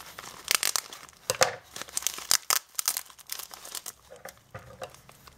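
Plastic mail packaging is crinkled and torn open close by, with irregular sharp rustles and crackles in quick clusters over several seconds.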